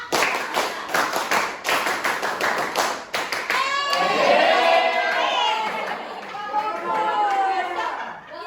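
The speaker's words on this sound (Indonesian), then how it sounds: "Cobain dulu 1 kali tepuk pramuka." A school class performs the rhythmic scout clapping pattern (tepuk pramuka), a group of students clapping together in quick patterned bursts, followed by loud chatter and voices filling the room.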